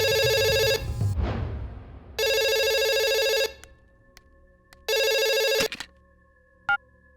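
An electronic phone ringtone trills in bright, repeated bursts separated by gaps, loud and close, with a few clicks and a brief rumble between rings.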